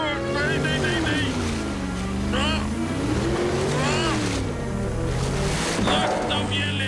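A motorboat engine drones steadily throughout, a continuous mid-loud hum running under excited voices talking and exclaiming over it.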